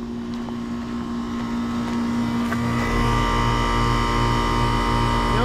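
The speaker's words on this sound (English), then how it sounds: "This Goodman with the Copeland recip just started up." Goodman HVAC unit with a Copeland reciprocating compressor running just after startup, a steady close mechanical hum with a strong tonal drone that deepens and grows louder about halfway through.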